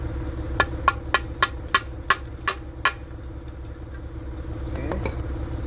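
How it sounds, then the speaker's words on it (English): Eight sharp metallic hammer strikes in a steady rhythm, driving brake parts into a 2018 Utility 3000R semi trailer, over a low idling engine hum, then the blows stop and the engine continues alone. "You need also hammer to put them in."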